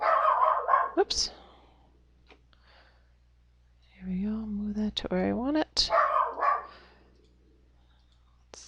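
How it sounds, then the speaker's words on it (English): A pet dog barks indoors in a few sharp bursts between stretches of quiet, alongside a person talking softly nearby. "Excuse my dog for his barking."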